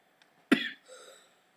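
A single sharp cough bursts out close by, followed by a brief softer breathy tail, then quiet.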